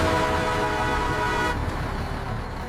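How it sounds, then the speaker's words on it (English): A loud bus horn honks in a long, steady blast over road and traffic noise, close by, then cuts off, leaving the engine rumble beneath. "The loud bus horn means we must run very fast."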